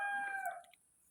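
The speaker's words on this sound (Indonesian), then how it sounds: "Itu suara alami," A single rooster crows once, clear and fairly close, the call trailing off after well under a second into quiet.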